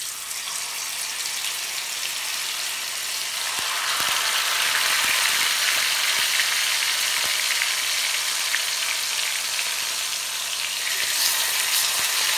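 Chicken pieces fry in hot oil, a continuous bright crackling sizzle that swells slightly midway and carries on alone with small pops throughout.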